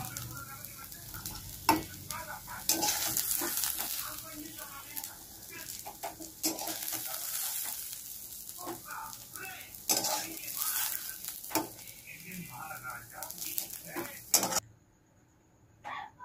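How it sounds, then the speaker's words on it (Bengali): Spice masala fries in a pan for chicken kosha, with a soft sizzle under repeated scraping and stirring strokes of a utensil, ending abruptly in near silence. "আমার এই মশলাটা ভাজা হয়ে গেল"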